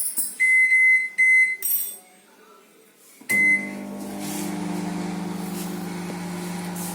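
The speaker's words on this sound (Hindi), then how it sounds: "20 सेकंड के लिए हमने" A few electronic beeps and a clunk, then an IFB microwave oven starts on microwave mode for 20 seconds and runs with a steady humming drone.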